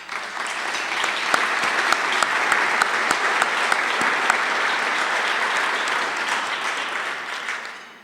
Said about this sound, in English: I'd like to give those folks a round of applause